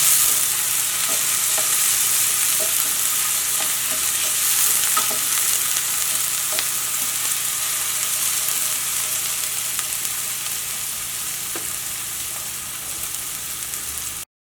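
Sliced onions soften in hot oil in a pan for a Kerala spinach and egg thoran, giving a steady, close sizzle with occasional scrapes and taps of a stirring spoon throughout.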